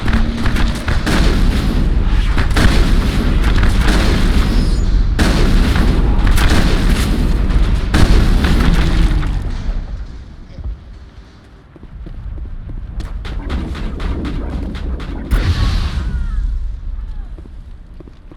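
Heavy shotgun blasts and booming explosions in the Mass Effect game during a fight with the geth, loud and dense for several seconds, then a quieter stretch before another round of rapid firing.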